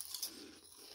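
Close crunching on a light, puffy, salty-sweet snack, a brief pair of crisp bites in quick succession, faint and alone without talk.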